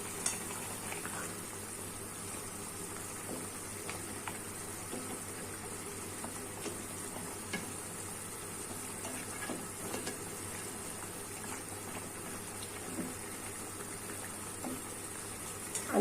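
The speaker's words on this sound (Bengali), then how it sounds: "লাউ দিয়ে পাঙ্গাস মাছের ঝোল রান্না হচ্ছে।" Pangas fish curry with bottle gourd simmering in a pan, a faint steady bubbling and sizzle with tiny pops running evenly throughout, no voices.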